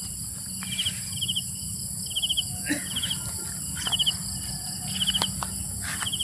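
Grasshoppers chirp in short, regular rasping bursts repeating every second or so over a steady outdoor hum on a farm, moderately near and unaccompanied by speech.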